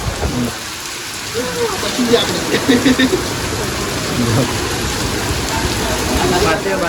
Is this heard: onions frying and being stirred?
no